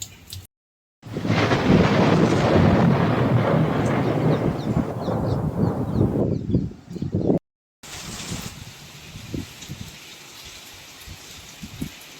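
During a windstorm in Bhavnagar, Gujarat, rain falls with a deep rumble of thunder swelling and fading, loud and close at first, then a quieter patter of rain after a brief cut.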